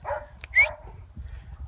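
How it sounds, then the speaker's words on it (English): A farm dog near a herd of Angus heifers gives a couple of quick barks and a yip over a low rumbling background. "you can take the barking ass dog with them"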